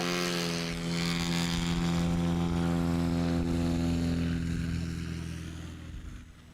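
A 1958 Cessna 182 propeller airplane flies close past at an airshow, its loud droning engine holding steady and then fading as it pulls away.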